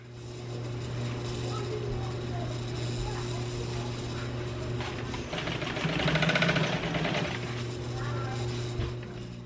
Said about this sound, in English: So, I am just finishing up the stitching and we are moving it right along.